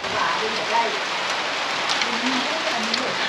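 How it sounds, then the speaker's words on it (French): Steady rain falls throughout during a rainy road trip in Thailand, a constant close hiss of drops on a surface with faint voices now and then beneath it. "Il pleut."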